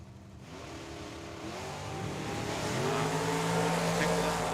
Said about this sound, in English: 2016 winged single monostrut wing dragster out of Chino, California, up against Hector Hernandez Jr.